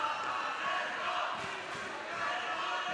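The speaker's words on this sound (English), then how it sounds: "The crowd here in Barcelona cheering their teams on." Roller derby crowd in Barcelona cheering its teams on, a steady broad wash of many voices roaring throughout with no clear breaks, fairly distant and continuous.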